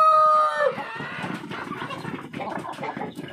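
Chickens at a rural village live meat market sound off close by, a brief crow-like call opening into a dense stretch of overlapping clucks and squawks amid busy background chatter.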